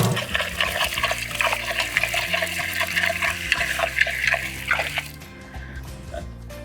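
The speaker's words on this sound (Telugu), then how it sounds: "సో మన చింత చిగురును కడుక్కొని పప్పులు వేసేసుకుందాం." Water splashes and sloshes steadily as tender tamarind leaves are washed by hand for a village-style dish, close and continuous before fading out near the end.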